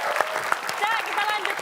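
Audience applause on an Indonesian television census quiz show, a steady dense patter of clapping running throughout with speech mixed in.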